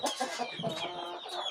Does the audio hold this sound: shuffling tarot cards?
no